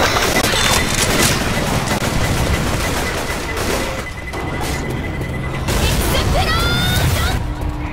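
Gunfire and explosions crash through a Left 4 Dead 2 zombie battle, with dense, loud bursts running almost the whole time and players calling out briefly underneath.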